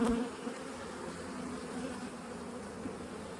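Honey bees buzz continuously close by, a dense steady drone of many insects, no talking.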